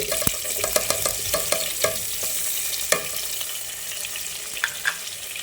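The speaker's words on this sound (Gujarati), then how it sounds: "હવે એ જ તેલમાં પનીરને ફ્રાય કરી લઈએ" Paneer frying in oil in a pan while preparing mixed vegetables with paneer, a steady crackling sizzle with scattered sharp pops and spoon scrapes, close and moderately loud with no talking.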